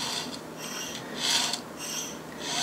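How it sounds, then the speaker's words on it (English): Carbide scriber dragged repeatedly across metal to cut a layout line in a machine shop, making rhythmic, close scratchy rasping strokes about every half second with no talking. "I am scribing it. I am cutting it with a carbide."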